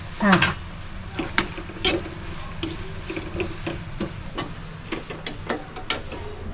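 Grated coconut roasting in a pan for panjiri ladoo, with sharp scraping stirs and soft sizzle repeating at an irregular rhythm, close and moderately loud, with no talking.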